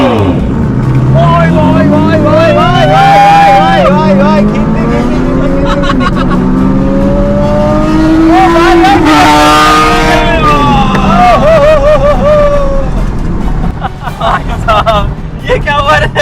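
A Porsche Boxster and a Kawasaki Ninja ZX10R superbike rev hard in a drag race, engines climbing through rising gear sweeps, loud and close, with voices talking over the roar.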